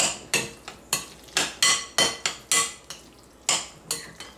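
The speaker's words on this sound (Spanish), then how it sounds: "Lo mezclaremos todo bien mezclado." A utensil stirs thick sauce in a frying pan, making a rhythmic run of about a dozen sharp clinks and scrapes against the metal, close up and with no talking.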